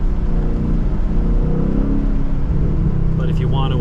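A 2022 Ford Mustang GT V8 drives a mountain road in manual mode, its engine a steady, loud drone throughout, with a voice speaking over it near the end.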